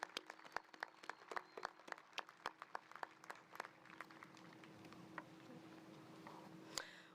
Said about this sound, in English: Let's please give our students another round of applause.